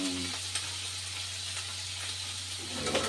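Mixed vegetables fry in a pan with a steady, close sizzle and crackle, over a constant low hum, with a brief clatter near the end.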